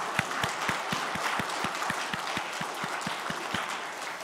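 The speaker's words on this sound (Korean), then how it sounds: "그 하나님께 우리 다 함께 영광의 박수 한번 올려드리겠습니다." Church congregation applauding in steady, rhythmic unison claps, moderately distant and evenly paced for several seconds.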